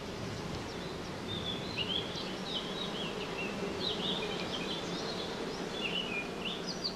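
Honey bees hum at an open hive during a colony inspection, a steady continuous drone close by with high chirping birdsong scattered over it.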